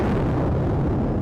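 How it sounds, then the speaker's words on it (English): An explosion at the site of an ongoing fire, carried on a live news stream during US–Iran war coverage: a loud, dense, continuous rumbling blast with no talk. "An explosion just took place in the same place that the fire is that we're already watching"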